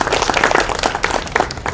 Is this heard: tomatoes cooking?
no